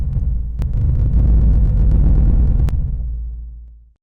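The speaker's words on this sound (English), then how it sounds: "I hope the Vine boom sound effect isn't too distracting" The Vine boom sound effect: a single deep, heavy boom with a rumbling low tail that swells and then fades out over a few seconds.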